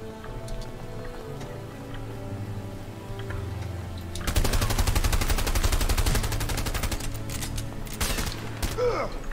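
Rapid bursts of automatic gunfire in the video game A Way Out erupt midway and rattle on loudly, with scattered single shots and sharp clicks before and after.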